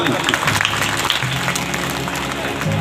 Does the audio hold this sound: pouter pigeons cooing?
no